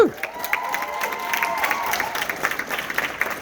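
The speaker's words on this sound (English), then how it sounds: "Please give them another round of applause." A crowd at a political pledge-signing event applauds and cheers, a dense steady wash of clapping with scattered whoops and shouts carrying through the whole stretch at moderate loudness.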